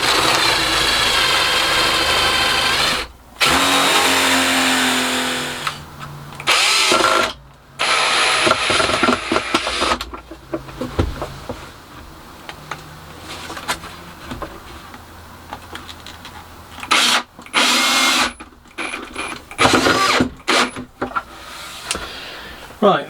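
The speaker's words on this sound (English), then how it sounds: "But we just drill the holes then" Power drill boring holes through 1.5 inch timber for a small wooden toy box, in repeated loud whirring bursts of a few seconds each, separated by short pauses.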